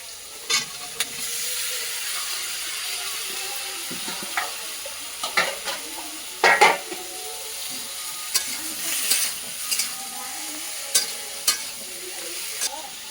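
Malabar spinach and taro pieces frying in a pan, a steady close sizzle broken by repeated scraping stirs and small splutters, with no voices.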